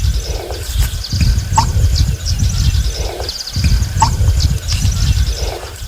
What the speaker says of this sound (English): That was an American bittern in the White River Marsh in Princeton, Wisconsin at about 5:30 in the morning.